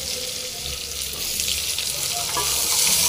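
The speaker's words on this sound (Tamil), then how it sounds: "வெங்காயம் போட்டு வெங்காயம் நல்லா ஃப்ரை ஆகிடும்" Onions with curry leaves fry in a pan for carrot and beans paruppu sambar, giving a loud, steady, hissing sizzle that swells slightly toward the end, with no one speaking.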